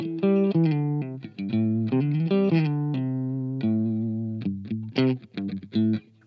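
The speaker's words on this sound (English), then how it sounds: "guitar is running into the EP boost as always" Distorted electric guitar through an EP Booster pedal into an HX Stomp and JMP-1, playing a melodic riff with crunchy, boosted tone, notes ringing then breaking into choppier phrases near the end, loud and close.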